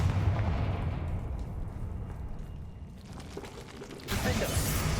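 A Confringo spell blast in the Hogwarts Legacy video game: a rumbling, booming explosive burst with dense low-end roar that fades, then a fresh loud burst of noise near the end.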